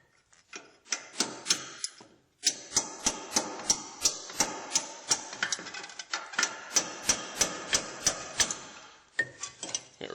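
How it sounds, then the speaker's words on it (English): A hammer drives a punch against a 2003 Mazda's steering knuckle to free it from the ball joint, giving sharp metallic strikes, a few spaced blows and then a steady rapid series of about twenty close, ringing hits. "Just take a punch and a hammer to get it off of there."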